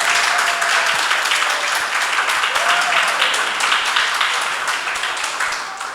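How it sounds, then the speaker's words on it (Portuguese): A church congregation at a Sunday service in Recife claps together, a dense, steady wash of hand claps that carries on alone and begins to thin toward the end. "Vamos bater palmas aí, né?"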